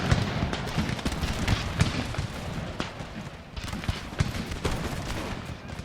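A blunderbuss unit fires a volley in Empire Total War, a ragged burst of many overlapping gunshots cracking in quick succession, with scattered shots continuing across the battlefield.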